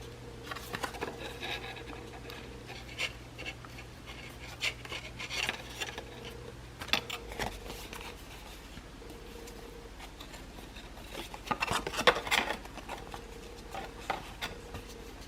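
Paper model pieces for a 3D building being folded by hand, with faint soft rubbing, creasing and light tapping scattered through a quiet room, a few louder crinkly bursts near the end.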